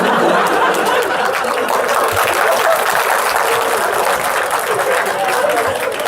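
An audience claps and applauds at a university session, with sustained, dense clapping running the whole time. Crowd chatter mixes in underneath.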